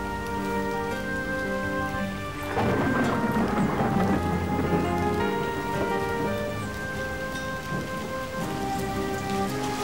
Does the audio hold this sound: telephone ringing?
no